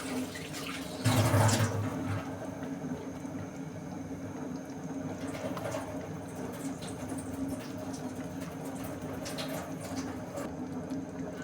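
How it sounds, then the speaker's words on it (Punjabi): Water gushes into a pot of pea and mushroom curry in a short loud burst, then settles into a steady, softer running and bubbling sound that continues to the end. "ਉਹਦੇ ਚ ਪਾਣੀ ਪਾ ਦੇਣਾ ਥੋੜਾ ਜਿਹਾ"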